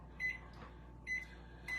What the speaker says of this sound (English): In the microwave it goes.